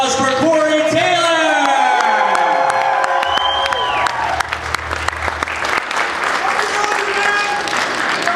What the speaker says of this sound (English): Please give a big round of applause for Corey Taylor.